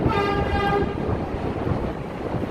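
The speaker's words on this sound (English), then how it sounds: "A lot of noise, trains up there, and cars." Trains rumble past on the bridge between Brooklyn and Manhattan, heard from directly underneath, with a loud, steady roar and a ringing tonal whine from the rails, dense and continuous.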